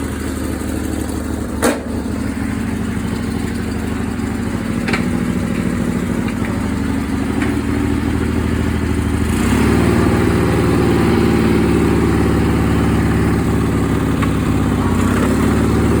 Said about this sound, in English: Running a little rough, but not bad.